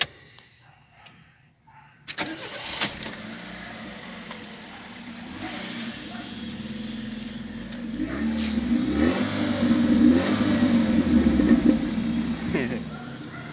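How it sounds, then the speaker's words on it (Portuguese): A Fiat Uno Mille Fire engine at about 147,000 km starts and runs, then its revving rises and swells in a growling surge before easing off near the end. "Motor perfeito, perfeito. Você pode escutar assim, gente."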